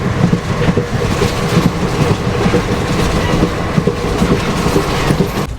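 Steady rumble and rhythmic clickety-clack of the Gwalior Barauni Mail running, heard from inside a 2nd AC coach, continuous and fairly loud with no talk.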